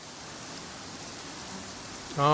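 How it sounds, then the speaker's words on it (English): Steady rain falls in the Genshin Impact video game, a constant soft hiss that runs throughout before a louder tonal game sound cuts in at the very end. "The rain won't slow me down."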